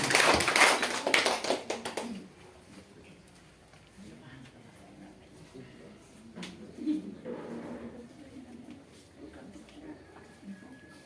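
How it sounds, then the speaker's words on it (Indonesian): A crowd at an Indonesian PKN party cadre gathering claps in a dense burst of applause that quickly fades to scattered taps and quiet murmuring. "Tepuk tangan untuk kita semua."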